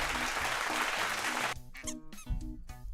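Canned applause from a sound-effect button, a burst of clapping for about a second and a half, then giving way to squeaky tonal sounds, all fairly faint.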